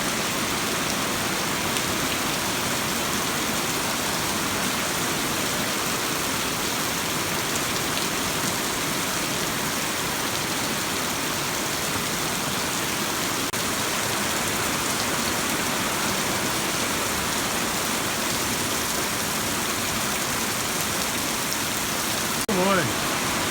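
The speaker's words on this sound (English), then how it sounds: "this is a good rain here." Heavy rain pouring down steadily outdoors near a truck and a roof, a dense, loud and unbroken hiss of drops that runs unchanged throughout.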